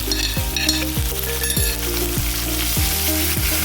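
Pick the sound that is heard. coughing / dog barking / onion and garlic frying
onion and garlic frying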